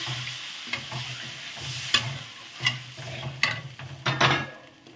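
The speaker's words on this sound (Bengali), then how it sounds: "এইবার জল দিয়ে দিলাম" Water added to a pan of fish curry, giving a steady close sizzle and bubbling, broken by repeated sharp scrapes and knocks of a spoon stirring against the pan, with no voices.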